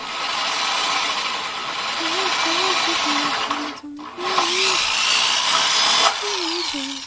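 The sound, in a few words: power drill drilling through a liner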